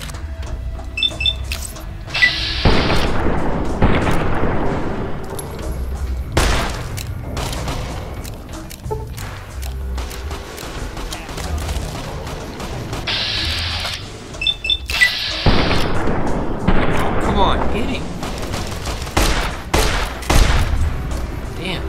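Gunfire in Fallout New Vegas, repeated sharp shots and bursts in irregular clusters, loud and close, with mechanical clicks and clatter between them.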